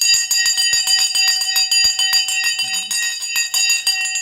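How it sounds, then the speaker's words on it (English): The stock market closing bell rings steadily and loudly, a rapid continuous metallic clanging with sustained ringing tones, heard alone with only a brief murmur beneath. "The bell is going now."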